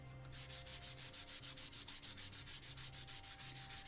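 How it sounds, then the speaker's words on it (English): Quick back-and-forth sanding strokes on wood before pyrography, a steady rhythmic rasp of about twenty even passes, close and continuous with no talking. "So we'll just give it a quick sand."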